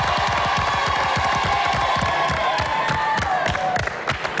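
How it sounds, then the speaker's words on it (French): Studio audience at a French television game show applauding a team, dense sustained clapping with some cheering filling the whole moment, loud and close. "Quelques applaudissements pour l'équipe blanche"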